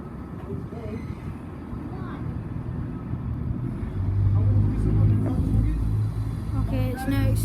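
A train pulls away from Dundee station toward Perth, its low engine rumble building steadily louder as it accelerates, with faint background activity around it.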